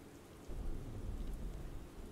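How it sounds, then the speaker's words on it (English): Steady video game rain pours down while a low roll of thunder swells and rumbles underneath, no voices. "I was trying to get a view of the rain"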